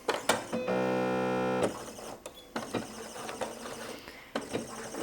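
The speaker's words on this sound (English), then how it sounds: "we're going to sew our 5/8 inch seam allowance. This is just a straight stitch." A sewing machine runs a straight stitch along a 5/8 inch seam allowance on heavy fabric for a flat felled seam: a close, steady mechanical whir lasting about a second, surrounded by handling clicks and fabric rustle.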